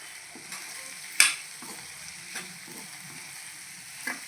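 Raw potato curry with curry leaves being stirred in a pan, soft scrapes and light taps of a spoon over a gentle sizzle, with one sharper clink early on, near and quiet.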